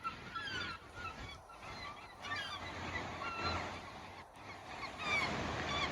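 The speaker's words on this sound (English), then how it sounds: "This woman over here is feeding the seagulls." Seagulls call in repeated honking cries while being fed peanuts by the ocean coast, several birds near and farther off, over a soft background wash of surf.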